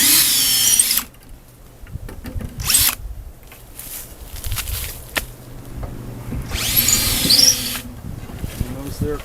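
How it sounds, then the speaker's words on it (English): A power drill removes screws from the back panel of a cedar hot tub, its high whirring bursts starting and stopping several times, near and loud, with a quieter stretch of handling noise between runs and some talk. "We just have a few screws that we got to get off of here."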